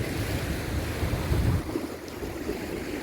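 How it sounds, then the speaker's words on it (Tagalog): Warm wind gusts rush across the microphone at a seaside sanctuary, rumbling over the low murmur of waves on the shore, with no talk. "Ang hangin, mainit, hangin."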